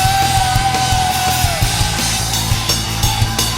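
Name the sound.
worship congregation shouting and whooping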